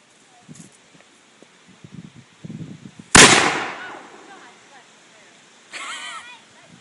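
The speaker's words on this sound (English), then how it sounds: "Shooting off the cannon because I know y'all wanted to see it." A single loud, sharp cannon blast booms out after quiet rustling and faint voices, its echo trailing off, followed by a softer crackling burst.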